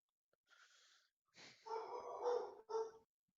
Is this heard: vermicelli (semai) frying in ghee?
no